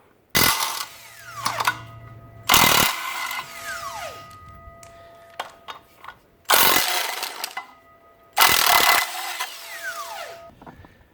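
Four separate bursts from an impact or power tool spinning off the bolts on an engine's flex plate, each loud and close, a second or so long, with quiet gaps of clinking and shuffling between them.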